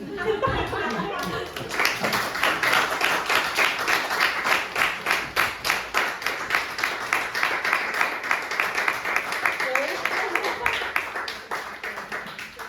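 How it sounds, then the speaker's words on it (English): Sustained audience applause fills a room after a literary reading at a reading series, dense and steady for over ten seconds with a few scattered laughs mixed in. "Can we have another round of applause"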